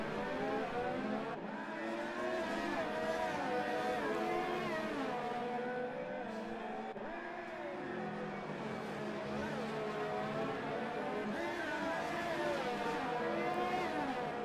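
F2 race car engines in a racing video game, several high-pitched engines whining and shifting together at a moderate level, with a voice talking over them.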